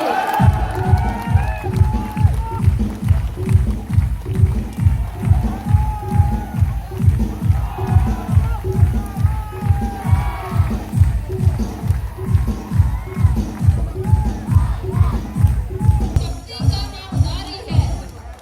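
Crowd cheering and applause at a retreat ceremony with a smart marching display, heard over a loud, regular rhythmic pounding of stamped drill steps that repeats steadily throughout.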